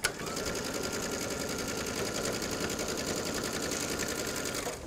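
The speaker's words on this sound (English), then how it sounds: "I'm just going to stitch basically on top of my first stitch line" A sewing machine stitches steadily along a welt pocket, a continuous fast close mechanical whirring with an even rhythm and no talk.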